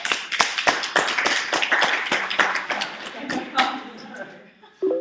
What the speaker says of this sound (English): Clap it up for Jacob.